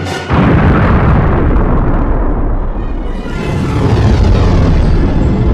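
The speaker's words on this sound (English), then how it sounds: "This was the best damn CGI explosion I ever seen." A massive CGI wildfire explosion from Game of Thrones season 6 erupts in one sudden loud boom, then rolls on as a sustained deep roaring blast that swells again toward the end, with no talk over it.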